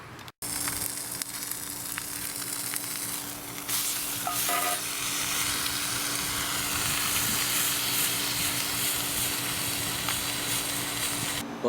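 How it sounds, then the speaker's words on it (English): Steady, close sizzling hiss of a large roast cooking on a solar cooker, a continuous crackling spit with faint clicks and pops, no voices. "I can already hear it starting to sizzle."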